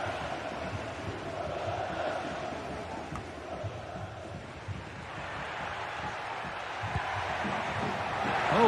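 Stadium crowd noise in a football video game: a steady, dense roar of many voices throughout, swelling slightly toward the end with a continuous wash and no distinct breaks.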